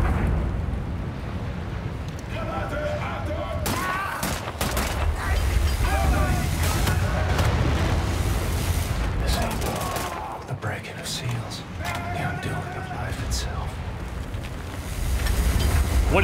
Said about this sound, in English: They just chuck grenades at me.